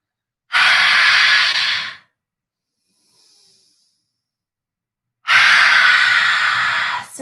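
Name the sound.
deep exhale breathing out during a workout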